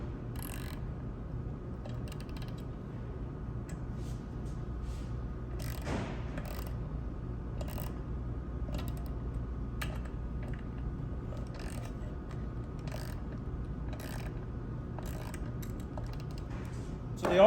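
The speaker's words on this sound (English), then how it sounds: "What I'm going to do is now start tightening up these before torque, just to pull that pressure plate down." Bolts on a Ferrari 355 F1 GTS pressure plate being snugged down by hand, producing faint, scattered ratchet-like clicks over a steady low workshop hum, with one sharper knock near the end.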